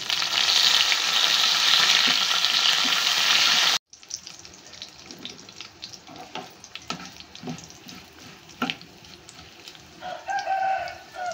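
Dry red chillies and curry leaves hit hot oil in a burst of loud, dense crackling sizzle that cuts off abruptly, followed by quieter scattered clinks and kitchen clatter.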